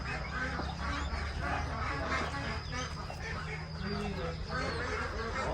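A flock of ducks quacks continuously in a rural Thai farmyard, a dense overlapping chorus close by, with people talking now and then under the calls.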